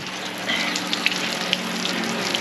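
Flush water gushes into an RV black water waste tank, a steady rushing, splashing flow with scattered drips and spatters close by, no talk.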